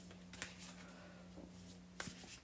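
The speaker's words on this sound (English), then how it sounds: "These cards are a little bit bigger, so it's a little bit more difficult for me to shuffle." Large oracle cards are shuffled by hand, soft papery riffles and slaps heard close and faint, with a few sharper bursts of card noise and no talking.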